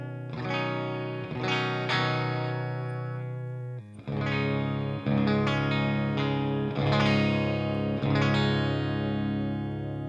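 Electric guitar with a clean, chiming tone and some effect shimmer, strummed chords ringing out one after another, alone and fairly loud.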